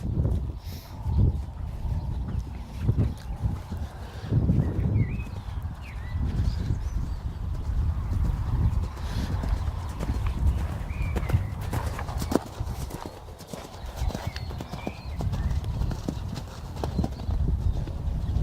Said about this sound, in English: So we'll go ahead and try cantering over that jump now.